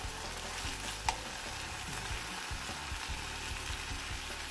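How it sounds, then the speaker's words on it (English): Beetroot halwa with brown sugar and crushed cardamom, stirred in a pan, gives a steady low sizzle with soft scraping of the spoon throughout and one sharp clink near the start, with no talking. "and I have to stir it"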